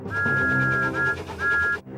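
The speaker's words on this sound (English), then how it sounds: "Then Emily heard Thomas's whistle." A cartoon steam locomotive whistle sounds in two blasts, the first longer, over a low rumbling background with a rhythmic chuffing underneath.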